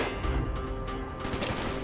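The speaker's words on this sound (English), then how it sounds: "Gunfire's drawing attention." Gunfire in the Call of Duty: Black Ops mission Executive Order, a dense, continuous roar of shots and blasts filling the whole stretch at steady high loudness, with heavier bursts near the end.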